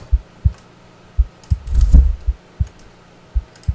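A video game's heartbeat sound effect thumps in low, paired beats at a steady pace, with a louder swelling rumble in the middle, heard alone without talk.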